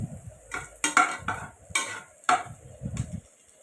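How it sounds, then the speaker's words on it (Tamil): Onions fry and get stirred in a pan while cooking chicken biryani, with a spoon scraping and clinking against the metal in short, uneven strokes over a soft background sizzle. "வெங்காயம் பொன்னிறமாகிற வரைக்கும் நம்ம கொஞ்சம் இதை வறுத்து விடணும்."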